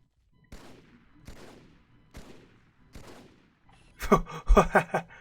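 Gunfire from the 2003 Halo 2 E3 demo video game: four separate spaced shots, each with a sharp attack and a decaying tail, followed by a louder, denser cluster of bursts and impacts near the end.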